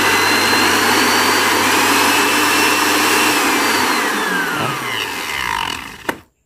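A Philips blender runs after its motor was replaced, giving a loud, steady high-pitched motor whine that holds for several seconds, then winds down in pitch and cuts off with a brief clunk before silence.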